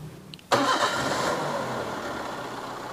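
A 2010 Toyota Avanza 1.5 automatic starts during a cranking test, with a brief crank, a sudden catch and a loud engine settling into a steady idle, nearby and without voices.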